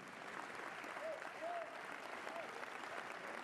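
Sustained crowd applause fills a sports hall, a dense even patter of clapping heard from a distance, with a few faint voices and brief calls rising over it.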